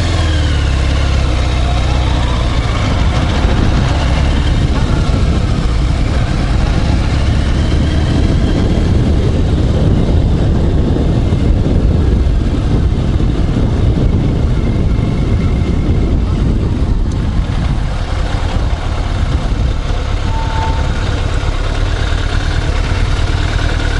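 Onboard microphone on a Yamaha FZR1000 motorcycle riding through night traffic: a loud, steady engine drone with a deep rumble fills the whole stretch, swelling slightly as speed builds midway, then easing.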